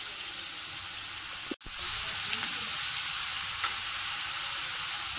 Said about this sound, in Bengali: সবজিটা ভালোভাবে কষিয়ে নিয়েছি, এখন জল দিয়ে দেবো।